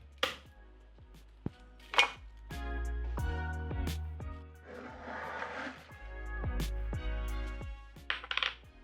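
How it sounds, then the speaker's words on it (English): Knife chopping garlic on a board, a series of sharp, close, irregularly spaced cuts with a brief scraping passage midway, no talking. "Give this garlic a rough chop."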